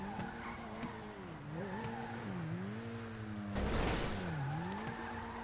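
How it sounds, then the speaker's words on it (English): A customized car with a titanium exhaust drifts in GTA, its engine droning and sweeping up and down in pitch while the tires squeal, with a louder burst of skidding noise midway. "Got the titanium exhaust on it."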